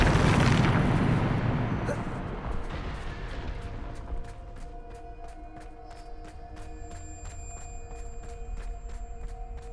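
A Bombarda spell blast in Hogwarts Legacy, a heavy booming explosion at the start that rolls off into a long fading rumble, followed by faint, evenly spaced ticking clicks.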